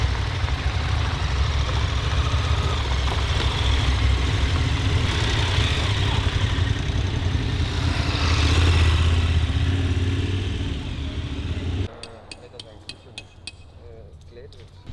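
A KTM adventure motorcycle engine, 1290 and 890 models, idles with a loud, steady low rumble that swells briefly, then cuts to quieter background noise with faint clinks near the end.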